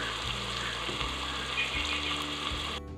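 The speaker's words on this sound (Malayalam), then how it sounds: "സ്പൂൺ മഞ്ഞൾപ്പൊടി എന്നിവ വെച്ച് ഇളക്കി കുറച്ച് നേരം മൂടി വെച്ച് വേവിക്കാം." Masala with chilli, ginger-garlic paste, fennel and turmeric sizzles steadily in a pan as it is stirred, a close, continuous frying hiss that cuts off abruptly at the end.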